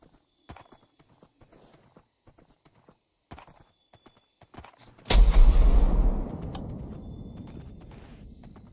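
A loud burst of rapid horse hoofbeats in a video game starts midway and fades into a sustained rumbling trail, following quieter scattered clicks and taps.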